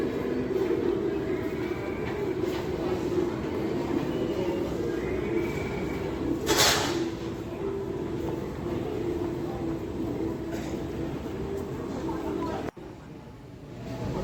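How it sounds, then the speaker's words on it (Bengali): A Kolkata Metro train pulls into an underground Green Line station, a steady rumble of rails and wheels filling the platform with one sharp hiss partway through while people talk nearby. "দেখুন ট্রেন এসে গেল।"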